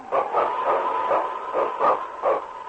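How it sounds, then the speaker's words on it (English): A husky lead dog barks repeatedly in an old-time radio drama about the Yukon, with loud, rhythmic woofs close up and no speech. "It's King, swiftest and strongest lead dog of the North Country"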